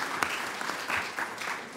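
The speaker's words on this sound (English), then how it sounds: "So really a round of applause." An audience applauding together indoors, a steady patter of many hands clapping at moderate volume from a distance, with no one talking over it.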